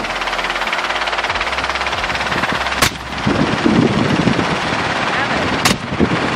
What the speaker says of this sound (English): You can't snipe them when you're in a helicopter.